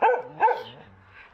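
A dog barks twice, nearby and fairly loud, then lets out softer whining tones, outdoors among houses in wintry Zakopane, Poland.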